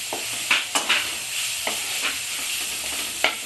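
Onion, ginger and garlic fry in a pan with a constant hissing sizzle, broken by several clear scraping strokes of a spatula as the mixture is stirred, close up with no talking.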